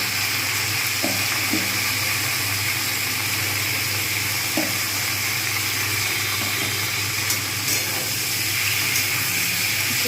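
New potatoes with chopped onion greens and turmeric frying in a pan, giving a steady close sizzle and hiss with a few faint stirring clinks, no talk.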